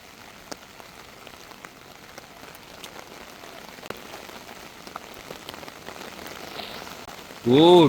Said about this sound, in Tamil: பயங்கர மழை வேற பெஞ்சிட்டு இருக்கு, காத்தும் சேர்த்து